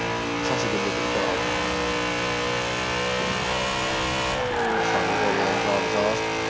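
A car engine in the racing game Forza Horizon 4 drones loudly and steadily throughout, its rich harmonic tone climbing and dipping as the revs shift, with no voices over it.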